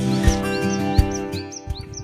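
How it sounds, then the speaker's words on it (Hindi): Birds chirp in a Kashmir forest, repeated short bright tweets close by, with a few soft thumps and a steady hum underneath. "फिर ये आपको चिड़ियों की चहचहाट आ रही होगी"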